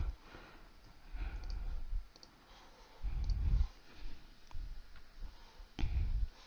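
Soft, irregular clicks of keys being typed on a computer keyboard come in small bursts with pauses between, faint and close, with no talking.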